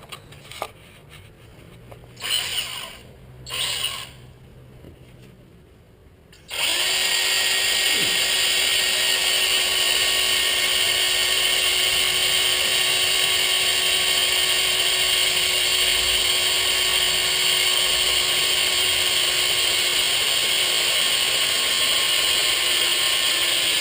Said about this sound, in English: There, I've drilled my pilot hole, pretty easy to do with the 1/8 inch bit.